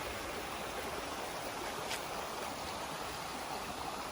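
A jungle river after rain rushes in a steady, broad wash of water noise that holds even and unbroken throughout, with no voices.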